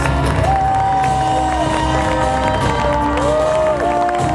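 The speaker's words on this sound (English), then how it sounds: "Give yourselves a round of applause." Large outdoor crowd at a charity walk closing ceremony in Washington DC applauding and cheering, a loud continuous roar of clapping and voices with a few whoops and whistles rising above it.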